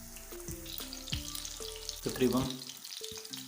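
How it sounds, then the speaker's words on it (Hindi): Beef chapli kabab with tomato slices frying in a pan over low heat, a continuous close sizzle with a few louder bursts, while a person speaks briefly over it. "इसको हमने तकरीबन हल्की आंच पर पकाना है ताकि ये अंदर तक पक जाए।"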